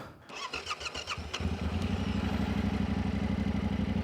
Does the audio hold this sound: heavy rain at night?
no